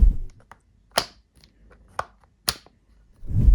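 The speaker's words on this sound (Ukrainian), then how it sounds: "При затягуванні на оснастки всередині патрону спрацьовує замок, що можна почути за характерним клацанням" Chuck locking mechanism of a Pro-Craft PA18 Pro cordless drill-driver clicking as accessories are tightened: four sharp, close, separate clicks spaced about half a second apart, with a soft handling rustle at the start and end and no speech.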